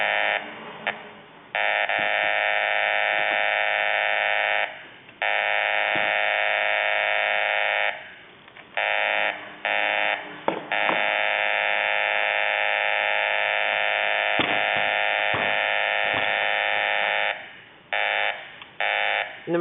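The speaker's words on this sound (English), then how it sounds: "the buzzer should turn on and off when the pointer is moved just several degrees back and forth over the timing mark" A magneto timing buzzer sounds in loud, steady electric buzzing bursts of several seconds each, cutting off and restarting repeatedly with short gaps and brief on-off flickers as the magneto pointer is moved back and forth over the timing mark.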